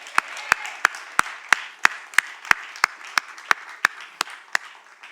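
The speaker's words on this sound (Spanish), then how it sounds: "dale un aplauso al Señor" A church congregation at a worship service claps in a steady, evenly spaced rhythm, with sharp single claps repeating about three times a second and no voices over them.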